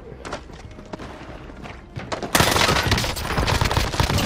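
Heavy sustained gunfire in a shooter video game, a dense burst of rapid shots that erupts loudly after a quieter stretch of scattered shots and thuds, continuing without letup to the end.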